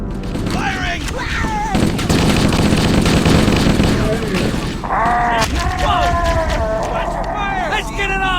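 Gunfire in Halo: Combat Evolved, loud bursts of automatic weapon fire and shots over game music and explosions, with voices calling out during the battle.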